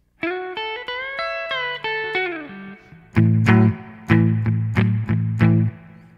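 An overdriven electric guitar plays a quick melodic line, then a hesitant stuttered entry followed by a rhythmic run of punchy, distorted chord stabs.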